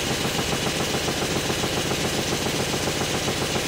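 A restored Stuart No1 model steam engine runs on steam at about 25 psi, giving a steady, fast, even chuffing and mechanical churn with a hiss of escaping steam, close and continuous throughout.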